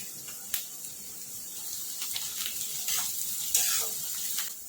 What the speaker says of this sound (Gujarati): આપણું કેપ્સિકમ ને ડુંગળી શેકાઈ ગયું છે